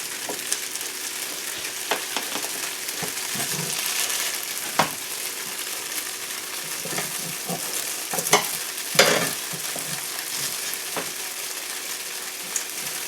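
Tofu frying in a pan, a steady bright sizzle with scattered clicks and scraping stirs, close and continuous with no voices.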